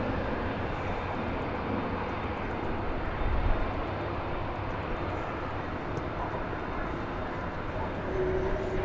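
A large jet climbs out at night from runway 18 left at DFW Airport, its steady broadband engine roar filling the air at moderate distance, swelling slightly midway and holding continuously throughout.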